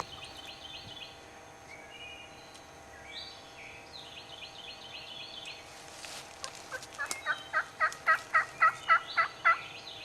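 A wild turkey gobbler in spring gobbles in a rapid run of about ten loud, evenly spaced rattling notes near the end, preceded by quieter bird calls over a faint outdoor background.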